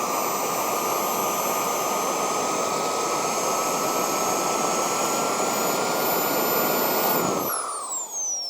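A Kingtech K45G4 model jet turbine roars at steady high speed on a bench, a loud, even whine over broad rushing noise, then spools down with falling tones near the end.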